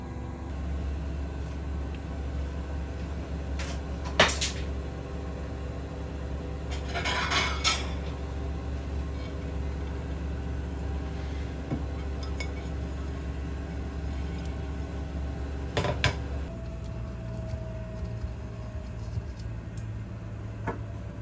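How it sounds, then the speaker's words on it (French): Metal cake pan clatters and knocks as a caramelized pineapple upside-down cake is loosened around the edges and turned out, with sharp clinks and scrapes scattered over a steady low hum. "Je vais juste légèrement le décoller sur les côtés et puis je vais le retourner."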